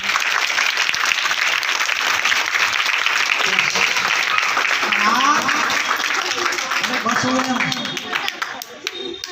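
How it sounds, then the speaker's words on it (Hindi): An audience at a school Teacher's Day award ceremony breaks into loud, sustained applause for a teacher receiving an ideal teacher award. Dense clapping runs for several seconds with voices mixed in, then thins out toward the end. "तालियां बजाओ जोर से।"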